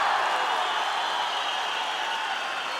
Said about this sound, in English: Listen to the roar from this crowd here in Chisinau